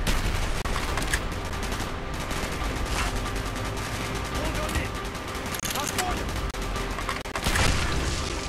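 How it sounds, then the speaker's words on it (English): Dense, continuous gunfire in the video game Call of Duty: Black Ops, with overlapping bursts and booms, loud and close, forming a chaotic battle din, with voices shouting faintly in the mix. "Gunfire is drawing attention."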